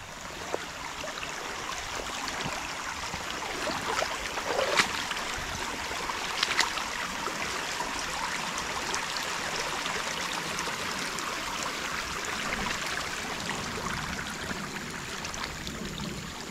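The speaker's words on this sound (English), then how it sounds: "there's so much water flowing back here" A creek flows strongly after a beaver dam has been removed, a steady rushing hiss of water with small splashes and ripples throughout, moderately distant and unbroken by talk.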